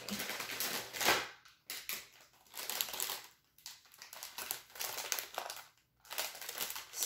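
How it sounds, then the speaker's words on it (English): Grocery packaging from a Walmart haul crinkles and crackles up close in irregular bursts, with short pauses between handling sounds and no talking. "there's lots of crinkles today"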